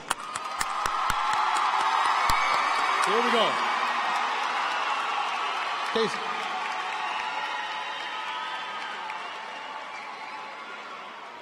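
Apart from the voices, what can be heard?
crowd applauding and cheering for graduating students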